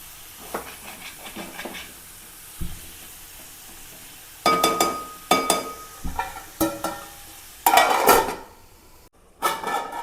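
Chicken curry simmers in gravy over a low flame, giving a soft, steady sizzle and hiss. Sharp metallic clinks of a utensil against the pot interrupt it at irregular intervals.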